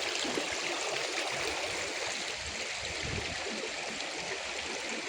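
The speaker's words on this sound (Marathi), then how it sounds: "हा असा ओढा आहे" A flowing stream beside a temple in Pusegaon rushes steadily nearby, a dense continuous wash of water with no voices.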